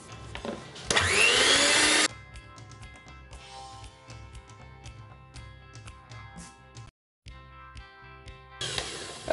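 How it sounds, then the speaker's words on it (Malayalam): An electric mixer on its first speed beats butter with powdered sugar, giving a steady whirring motor drone with a brief louder burst and a short pause, and no one speaks over it. "അപ്പോൾ നമുക്കിത് ബീറ്റ് ചെയ്ത് കൊടുക്കാം ഫസ്റ്റ് സ്പീഡിലിട്ടിട്ട്."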